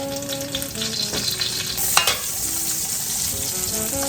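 Garlic, bay leaf and onion sauté in oil in a pan, giving a close, constant sizzle with a faint tonal hum and one brief stirring clatter midway.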